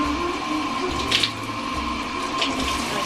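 Tap water runs steadily into a sink as hair is rinsed under the flow, with a constant gushing hiss and a few brief splashes.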